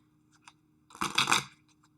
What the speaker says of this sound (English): let's shuffle that twice because it just I need to shake some energy out of it here